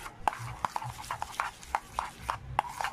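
A spoon mixes onion chives into a garlic mayo dip, tapping and scraping the bowl in a steady rhythm of sharp knocks about three times a second, close and moderately quiet.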